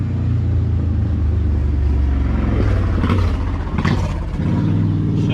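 A 1995 Saleen Mustang engine runs rough with a snapped rocker bolt, a loud, steady close-up rumble with brief clattering knocks rising near the end.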